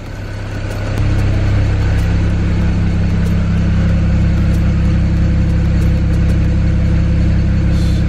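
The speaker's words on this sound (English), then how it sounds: "And then you'll hear the exhaust flaps open around the back." A BMW engine with a failed oxygen (air-fuel ratio) sensor idles, then jumps to a louder, deeper steady drone as the rear exhaust flaps open, a close, constant rumble with no talk.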